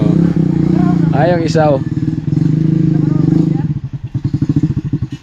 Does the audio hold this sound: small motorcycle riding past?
yes